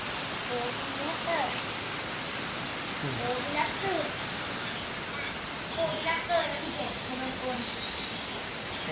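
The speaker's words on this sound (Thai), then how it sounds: "บรรยากาศ ฝนตกครับนอนฟังเสียงฝน" Steady heavy rain hisses continuously on a riverside house, with a voice talking faintly beneath the downpour.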